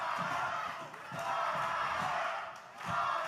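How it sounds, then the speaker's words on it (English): Wrestling crowd at an OVW live event roaring and chanting in rhythmic surges, swelling and dipping in waves, with a voice faintly underneath. "And listen to the crowd."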